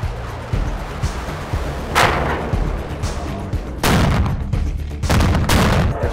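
Several heavy, booming gunshots ring out in a war zone at irregular intervals, some sharp and others rolling, over a low continuous rumble.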